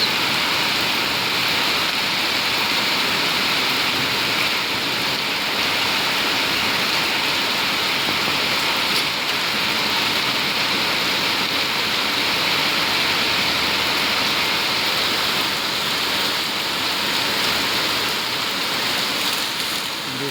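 Heavy rain pours steadily onto a flooded street near Lake Gardens, a dense, constant hiss of water with no breaks, loud and close, with faint background noise beneath.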